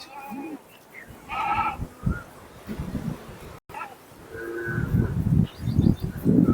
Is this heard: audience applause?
no